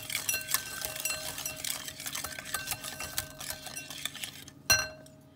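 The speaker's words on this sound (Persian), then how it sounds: "هم میزنم." Light clinking and scraping of a spoon stirring in a bowl, steady and close, ending with a sharper clink.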